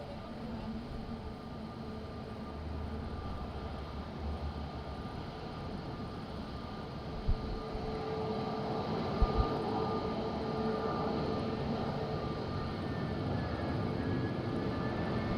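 A jet at Madeira airport on a windy day: a steady distant engine roar and rumble on the runway, broad and constant, with a couple of brief thumps partway through.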